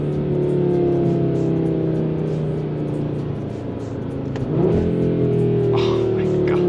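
A new Audi RS3 engine revving up and down through downshifts, a steady loud droning growl heard from inside the car that rises in pitch, with people talking over it.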